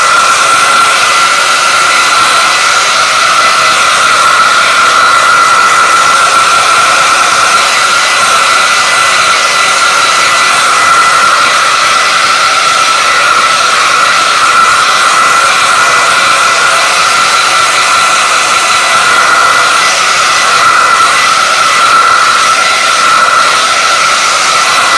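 A hair dryer blows steadily and loudly at close range to dry white paint in a sketchbook, an unbroken whooshing roar with a constant high whine and no talk.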